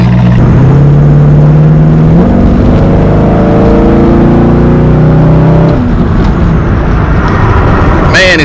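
A Chevrolet Corvette engine revs and accelerates up close, its pitch climbing in repeated pulls with a loud throaty exhaust, then dropping back before a brief high whine at the end.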